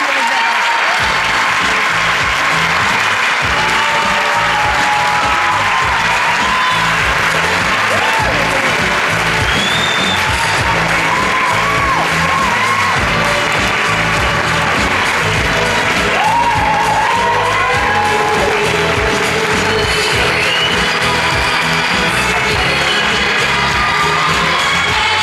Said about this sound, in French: Merci d'applaudir la deuxième dauphine de Miss France 2013